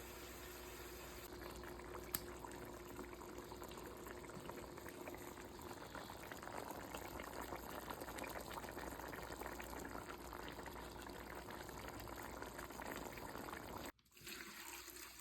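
Beef steams in a covered pot while making Haitian squash soup, a steady low bubbling and hissing that holds throughout at a faint level, with a brief knock near the end.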